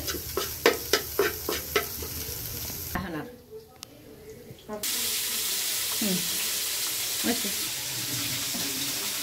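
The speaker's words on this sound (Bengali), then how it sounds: "এই যে মাছ ভাজা হইতেছে, দিয়ে দিছি।" Fish fries in a pan with a steady, close hiss that takes over after a run of rhythmic knocks and a short quiet gap, with occasional scrapes and clinks layered on top.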